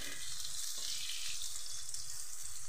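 Pointed gourd frying in a pan with roasted ground spice powder, a soft continuous crackling sizzle close by, low in level and without talk.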